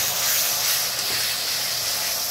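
Ginger, garlic, onion and cumin paste sizzles in a pan with chicken, a constant loud bright hiss that holds steady from start to finish with no talk.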